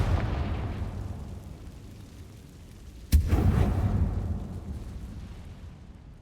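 A Confringo spell explodes in Hogwarts Legacy, a single sharp blast that booms loudly and then rolls off into a long rumbling decay over low game ambience.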